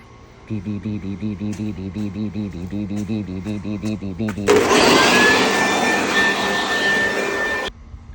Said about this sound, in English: with my best blower friend